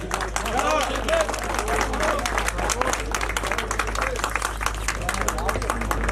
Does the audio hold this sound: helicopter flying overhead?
no